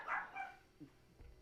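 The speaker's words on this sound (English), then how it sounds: "Pardon the chihuahua in the background." A chihuahua barking in the background of a room, one or two short, faint yaps followed by quieter whimpering.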